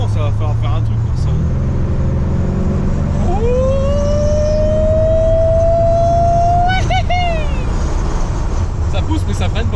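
A Corvette C3 sports car driving with a low engine rumble that rises into a long climbing tone as it accelerates, steady and loud throughout with a brief burst near the end, while people talk over it.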